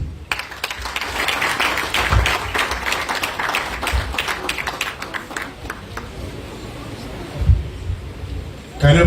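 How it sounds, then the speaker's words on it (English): An audience at a state commissioning ceremony for the governor applauds in dense, fairly loud clapping that swells early and then thins, with a few louder claps and some voices mixed in. "Can you please applaud him again?"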